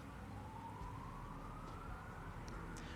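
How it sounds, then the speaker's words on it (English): A siren wails outside, a faint, steady tone that rises slowly in pitch and continues throughout, set against a constant low background rumble. "there's a siren going on."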